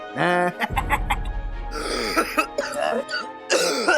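Coughing and throat clearing in a home kitchen comedy scene, with several loud, close, rasping hacks and throaty grunts over about four seconds, broken by brief pauses.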